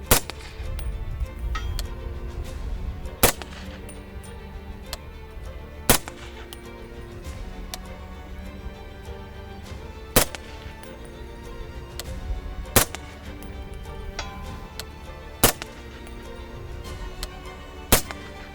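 Subsonic 300 Blackout rounds from a Sig Rattler short-barreled rifle: sharp single shots spaced every few seconds, each a crisp crack standing out against steady outdoor wind noise.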